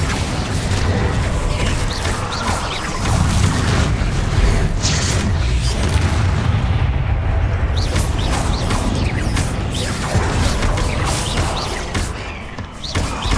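Bombarda explosion spell cast in Hogwarts Legacy, loud booming blasts and thuds layered with crashing debris and clattering, dense and continuous with repeated impacts over the whole stretch.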